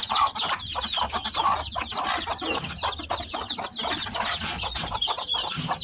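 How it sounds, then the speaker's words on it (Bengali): An angry hen guarding newly hatched chicks on a rooftop coop clucks and squawks continuously and agitatedly, close by, with no speech. "অনেক রাগী মুরগিটা, দেখেন কেমন করে"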